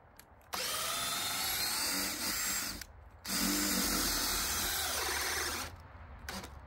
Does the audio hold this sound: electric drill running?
yes